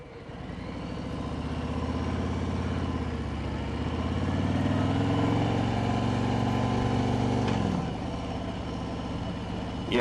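A 2021 Harley Davidson Road Glide motorcycle engine drones while riding, a loud, steady low rumble that builds and holds, then drops off sharply near the end as if easing off or shifting.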